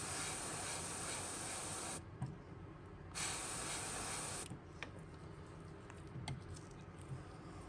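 An airbrush sprays white paint onto a custom toy figure, a close steady hiss that stops briefly, resumes, then gives way to a quieter background with light clicks.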